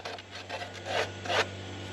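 Dried LizardSkin coating being scraped off a surface a day after application, giving a few short raspy scrapes over a steady low hum, with no talking.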